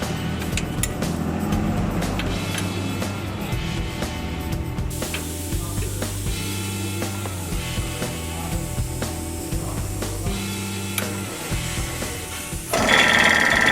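A vacuum brake bleeder draws brake fluid through new wheel cylinders on a Ford during a brake job, giving a steady mechanical buzzing whir with rapid pulsing, continuous and nearby, with a louder hiss near the end.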